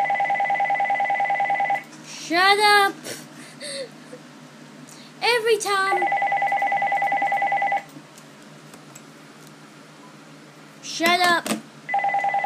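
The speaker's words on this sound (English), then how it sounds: "Every time I do a video, the phone just rings." A telephone gives out repeated two-tone electronic rings in steady bursts, loud and close, broken up by a man's annoyed spoken outbursts between the rings.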